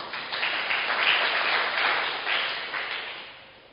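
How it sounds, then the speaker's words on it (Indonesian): A church congregation applauds during a Sunday sermon: dense, steady clapping that swells, holds for a few seconds, then gradually thins and fades near the end. "Tepuk tangan, saudara."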